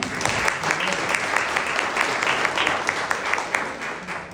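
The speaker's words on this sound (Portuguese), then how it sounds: "Salve de palmas." An audience breaks into sustained applause, with dense overlapping claps forming a steady roar that holds at an even loudness before easing slightly at the end.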